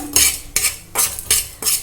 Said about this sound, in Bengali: এই মশলাটা কিন্তু আমাকে ড্রাই রোস্ট করে নিতে হবে